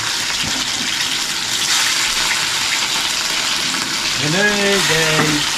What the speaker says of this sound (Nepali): अब यहाँ माछा चाहिँ फ्राई गर्छु, फ्राई गरेर हेर्दै जानुहोस् तपाईँहरूले